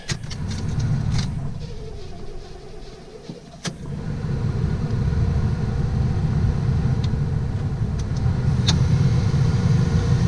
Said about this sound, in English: I'm behind the wheel of this beautiful 77 Grand Prix LJ. We're going to take her for a ride.